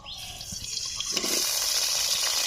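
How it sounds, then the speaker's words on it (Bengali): Potatoes drop into hot oil in an outdoor village-style kitchen, a sudden clunk followed by a loud, steady hiss and crackle that rises and holds, near and alone with no talking. "তেল গরম করে নিচ্ছি, গরম হয়ে গেছে। এই তেলে আলুগুলোকে দিয়ে দিচ্ছি।"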